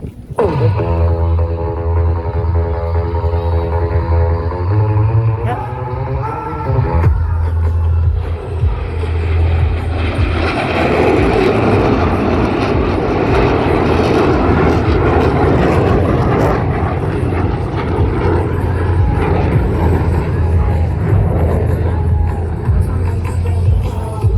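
Blue Angels jets flying a low brake-turn cross maneuver at an air show, a loud roaring jet engine rumble that builds from a whining tone into a broad sustained roar as the aircraft pass overhead.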